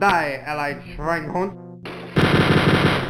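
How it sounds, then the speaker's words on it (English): A brief shouted game voice gives way to a dense, continuous roar of Gatling gun fire from the mechanical-suit Hitler boss in the Wolfenstein 3D video game, loud and close. "In it, you take on and kill Adolf Hitler in a Gatling gun firing mechanical suit, affectionately dubbed Mecha Hitler."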